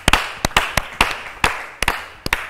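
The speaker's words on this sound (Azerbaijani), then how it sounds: "Çox təntənəli alqış oldu" Audience applause on the Azerbaijani morning TV show İncə Səhər, heard as loud, close, distinct claps landing in an uneven rhythm, about a dozen strikes with brief gaps between them and no talk.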